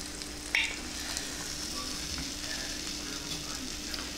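A keto pizza chaffle cooks in a mini Dash waffle maker, giving a steady, quiet sizzle and hiss that holds evenly throughout, with one brief sharper crackle near the start.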